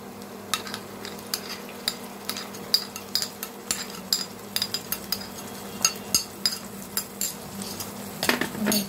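Ginger garlic paste mixed into frying onions in a pan for Kerala-style mutton curry, with repeated close spatula clinks and scrapes in an irregular rhythm over a low sizzle.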